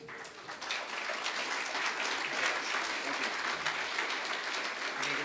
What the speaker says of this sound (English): Let's give all of our honorary life members one more round of applause.